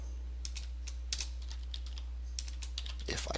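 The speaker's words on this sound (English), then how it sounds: "If I can type." Close computer keyboard typing in quick irregular taps over a steady low hum, ending in a faster flurry of keystrokes.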